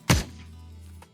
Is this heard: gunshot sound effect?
yes